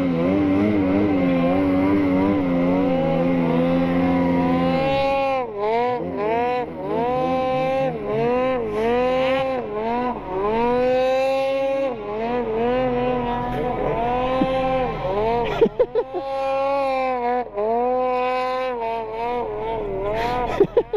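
A snowmobile engine screams at high revs through a long backcountry wheelie, its pitch rising and falling in repeated sweeps, loud and close, with brief knocks near the end.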